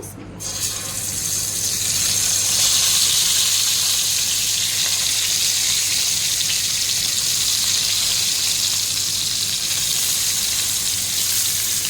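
Stuffed brinjals hiss and crackle in a modest amount of hot oil for a gutti vankaya curry, one dense, even sizzle that holds steady throughout over a low hum.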